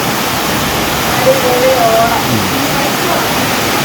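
Heavy rain pours down on Onam day, a dense, steady roar of downpour that fills the whole clip at close range with no break in intensity.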